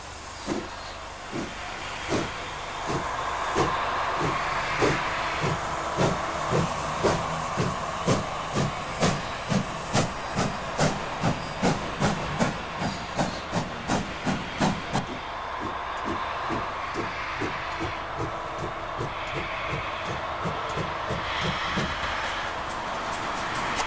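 A King class steam locomotive of the Western Region, early 1960s, running with a loud, steady stream of rapid rhythmic beats and clanks over a continuous hiss and rumble, holding close and prominent throughout.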